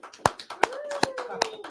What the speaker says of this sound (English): Everybody's clapping in the studio here.